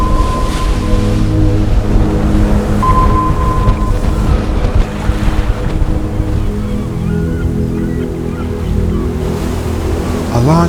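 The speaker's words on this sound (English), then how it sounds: "beautifully cruising wave after wave, with the sound of the sea and some seagulls as our company" Steady rush of North Atlantic sea waves and wash around a moving sailing boat, with a low engine-like hum underneath; continuous and fairly loud throughout.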